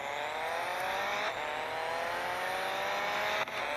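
Alfa Romeo 4C Competizione engine racing at Hockenheim at night in a video game, a loud, steady high-revving drone climbing in pitch through the gears, with brief dips at the shifts.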